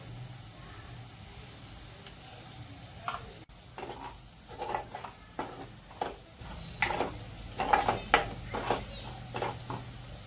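Ginger frying in oil in a pan, a soft close sizzle with a series of scraping stirs that grow busier and louder toward the end, at low overall volume.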